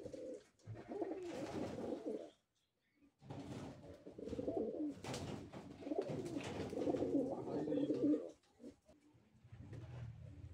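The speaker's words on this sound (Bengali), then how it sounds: "বন্ধুরা এখন আমাদের খামারের যে লোটন কবুতর গুলো আছে সেই লোটন কবুতর দেখাবো" Lotan pigeons on a pigeon farm coo in soft, overlapping bursts, with short lulls between the calling spells.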